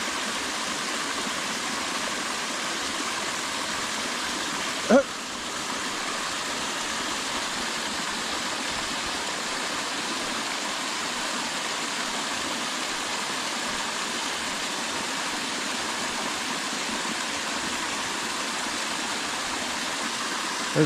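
A waterfall and stream pour in a steady, unbroken rush of water. One small click rises briefly above the roar.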